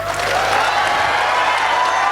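Audience applause at an inspirational talk event: dense, steady clapping from a crowd that fills the whole short moment at moderate loudness.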